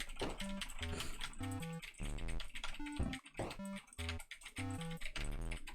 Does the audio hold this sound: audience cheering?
no